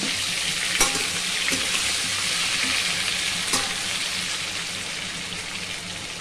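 Brinjal (vankaya) curry frying and being stirred in a pan, a steady loud sizzle throughout with a few sharp spoon scrapes and clacks against the pan, no voices.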